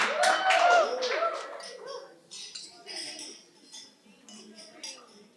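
Glasses clink during a wedding toast, with several light chinks and clinks scattered among guests, following a brief burst of voices and some cheering.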